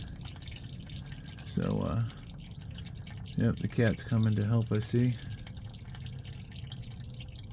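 Coolant drains from a 2003 Porsche Boxster during a radiator replacement, a few close liquid drips and splashes landing in short clusters while someone talks quietly.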